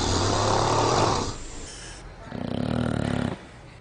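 A person snoring with loud, rasping inhaled snores, two long drawn-out breaths separated by a quieter pause, close and alone with no talk.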